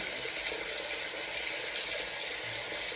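Warm water runs steadily from a tap as it heats up for skincare washing, giving a constant close hiss and splash with no pauses or voices.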